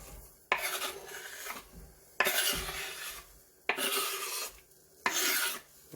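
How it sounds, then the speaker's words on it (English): Chopped onions are stirred in a hot pan, four rhythmic bursts of scraping and sizzling rub separated by short quiet gaps, close and alone. "we're going to place our chopped onions into the pan"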